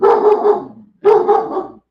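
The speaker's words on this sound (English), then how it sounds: "My pup went crazy." A pet pup barks excitedly indoors in two loud, close bursts separated by a brief pause, each burst a rapid string of overlapping yelps and barks.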